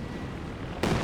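A rifle grenade bursts in Company of Heroes 2, a sudden loud blast that lands near the end of a second of low battlefield rumble and hangs briefly at full strength.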